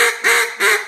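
A hand-blown duck call mimics a hen mallard's quack, giving three short, loud, nasal quacks in quick even succession, each tapering slightly at the end.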